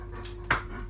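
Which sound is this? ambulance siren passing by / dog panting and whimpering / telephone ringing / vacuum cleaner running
dog panting and whimpering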